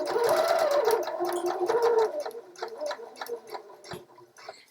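A sewing machine stitches up a side vent on scrubs, running in a quick, rattling, ticking run that starts strong and then thins into slower, uneven stitches, close and alone.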